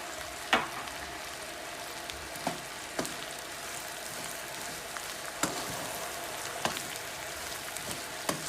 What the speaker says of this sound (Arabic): لازم التقليب ده كده عشان خاطر التقليب ده